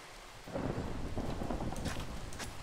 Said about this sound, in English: It's night? Yeah, it's night and it's raining.